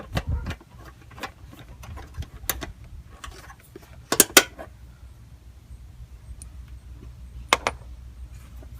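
A 10mm socket wrench turns a screw on the cold air intake near the throttle body of a 2006 Mustang GT, giving close, quiet ratcheting clicks and a few sharp metallic clacks in irregular bursts.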